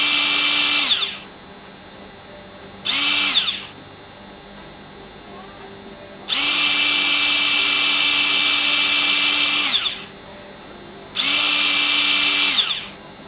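Four bursts of a power drill boring a hole into a cast resin perfume bottle from a DAISO silicone mould, each a steady high whine lasting one to three seconds with short pauses between, close and loud with no talk.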